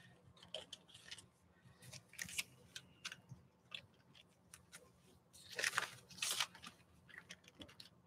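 Rice paper being torn by hand from both sides, giving close, dry, crackling rips in irregular bursts, the loudest and busiest stretch coming toward the end.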